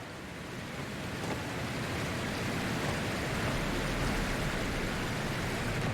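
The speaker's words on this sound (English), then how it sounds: "Very loud waterfall" A very loud waterfall on the Storm Coast in Dragon Age Inquisition roars as dense, steady rushing water noise, slowly swelling and filling the scene, with no voices.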